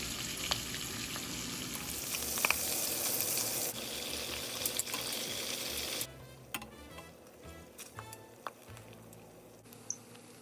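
Pork skin chicharrones fry in oil over medium-low heat, a steady broadband sizzle that stays fairly loud for the first six seconds, then thins to a quieter crackle with scattered pops and light stirring clatter.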